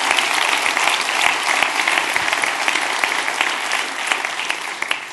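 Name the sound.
audience applause for the conference speakers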